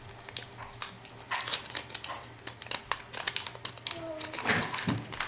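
Kinder Joy surprise egg sticker sheet wrapper crinkling near and loud, in rapid rustling bursts against steady background hum and a voice.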